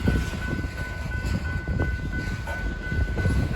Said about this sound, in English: The train pulls forward now for the second time, bringing a full string of about 50 hopper cars onto the main line.